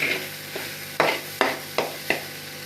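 Minced meat (keema) frying in a pan, steady close sizzle with four sharp stirring scrapes at regular intervals, no voices.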